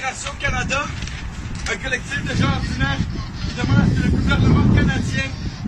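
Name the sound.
wind blowing on microphone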